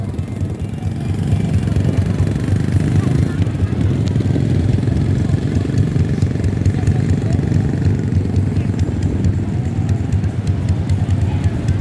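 A motorcycle engine runs and revs steadily on a beach at Pantai Air Manis, Padang, a loud continuous drone across the whole stretch with people talking over it.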